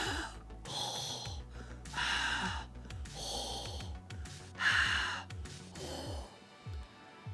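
Heavy, rasping breaths in a slow rhythm, each exhale a loud huff with a throaty edge, close to the listener, like a voice imitating a panting creature.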